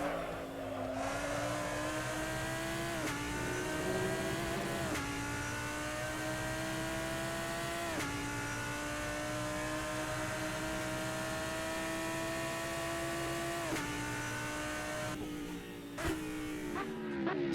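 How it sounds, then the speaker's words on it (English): A Lamborghini Huracan GT3 race car engine from Assetto Corsa, lapping Road America: a steady, loud, high-pitched engine wail that rises with each gear, with several sharp drops at upshifts and braking and no voices. "So that was a lap around Road America with the Lamborghini Huracan GT3"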